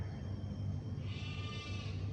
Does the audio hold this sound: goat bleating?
yes